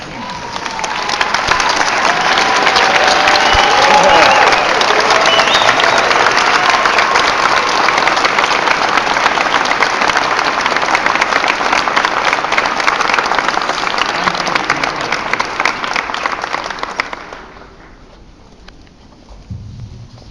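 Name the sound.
audience applauding graduates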